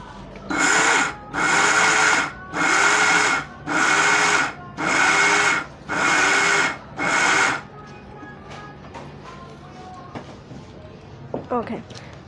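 A mixer grinder grinds sugar for thandai in seven loud, evenly spaced whirring bursts of about a second each, followed by quiet kitchen handling sounds and brief speech.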